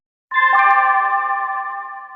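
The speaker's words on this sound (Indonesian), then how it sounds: "hingga bel istirahat pun berbunyi" A school bell signals break time with a clear electronic chime that starts suddenly after silence and holds as one sustained, slowly fading ring.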